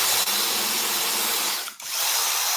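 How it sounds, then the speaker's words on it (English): A power drill fitted with a 3mm bit bores into wood for an Adirondack chair, a loud, steady high whine close by that dips briefly twice as the trigger eases, with no talking. "I'm going to go back with my little drill."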